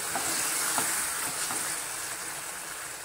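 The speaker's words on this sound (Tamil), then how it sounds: "தேங்காய் பாலை ஊற்றி நல்லா 1 கொதி தான்" Steady, soft bubbling sizzle of coconut milk simmering in a pan, constant and even throughout with no voices.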